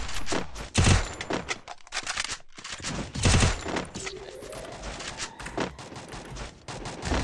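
Rapid gunfire from a USP pistol in the shooter game Free Fire, with loud bursts of shots, brief pauses and game effects, sounding close and dense throughout.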